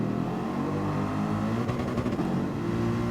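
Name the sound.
Gr.3 race car engine in the video game Gran Turismo 7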